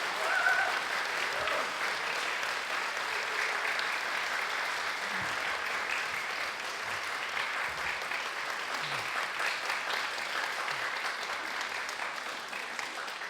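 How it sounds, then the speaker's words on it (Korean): A church congregation claps steadily to welcome a pastor, a dense sustained applause that holds at an even level for the whole stretch with no voices rising above it. "여기 오시기까지 힘차게 우리 박수로 모시겠습니다"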